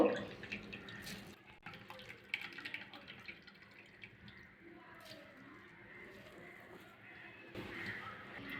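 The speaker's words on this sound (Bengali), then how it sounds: "এবারে ওলকপি সব জল করে ফেলে দেবো" Water is drained off grated kohlrabi into a bowl, giving faint trickling, dripping and wet squishing sounds at close range with a little handling noise throughout.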